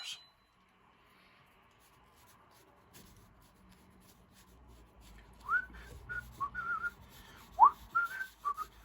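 Faint scraping and rubbing give way to someone whistling a short, bright tune in several quick notes, close by.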